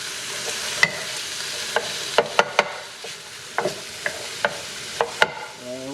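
Fried rice with spring onion and bean sprouts stir-frying in a pan, a steady close sizzle punctuated by sharp metallic scrapes and taps of the utensil at irregular intervals, without speech.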